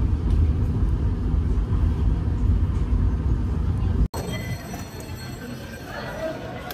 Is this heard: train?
yes